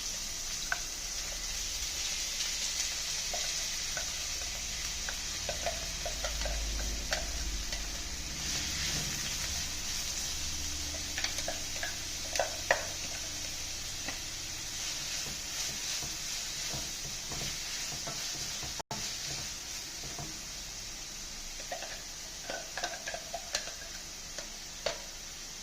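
Shallots, ginger, bird's eye chillies and garlic sauté in a pan in a home kitchen, giving a steady close sizzle with scattered ticks and clinks from stirring throughout.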